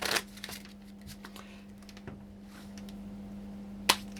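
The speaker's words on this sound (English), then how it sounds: "Shuffle, spread, and give you 5." A deck of playing cards riffled and spread during a live magic prop show, a soft papery flutter near and close, with a sharp snap near the end over a steady hum.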